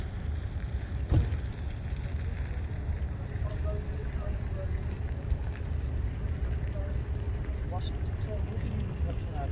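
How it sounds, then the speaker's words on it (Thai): A large boat moves on the water with a low, steady engine rumble and wash, buffeted by wind noise against the microphone while people talk nearby. "เรือใหญ่เลยค่ะ"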